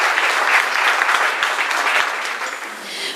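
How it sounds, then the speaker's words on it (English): Audience at a donor pitch event applauds a professor after the presentation, a loud, dense round of clapping that fades slightly near the end. "A big round of applause for Professor Atwell."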